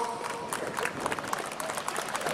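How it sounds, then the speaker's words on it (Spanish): Audience at a quinceañera celebration in Querétaro, Mexico, clapping steadily in a dense patter, moderately loud, without talk over it. "Que se escuchen fuerte los aplausos"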